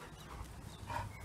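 A dog pants softly and close by in a brief burst, with a faint whimper near the end.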